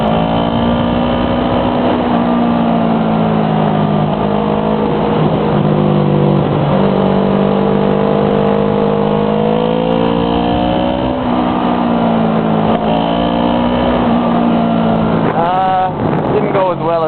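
Motorcycle engine droning steadily while riding around a corner on the road, with loud continuous wind buffeting over the microphone and small shifts in engine pitch as it leans through the bend, ending with a brief rev.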